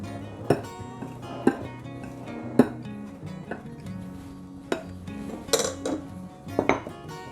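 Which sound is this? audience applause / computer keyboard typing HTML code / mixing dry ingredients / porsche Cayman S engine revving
mixing dry ingredients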